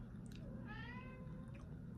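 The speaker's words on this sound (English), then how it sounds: "It's my cat if you heard it meowing." A house cat gives a single short meow indoors, rising and falling briefly, fairly soft against a steady low background hum, with no one talking.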